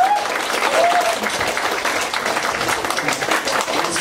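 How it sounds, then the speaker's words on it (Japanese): An audience at the All Round Music 2018 live concert claps throughout, a dense, steady wash of applause close and loud, with a voice briefly audible over it. "本当に拍手"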